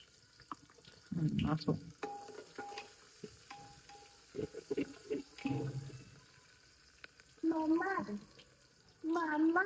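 Chopped garlic and onion sizzling in hot oil for a tempering while making a village-style chicken curry, a steady frying hiss beneath a voice that talks on and off.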